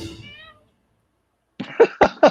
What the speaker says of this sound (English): My cat is just meowing away because this is just what he does here.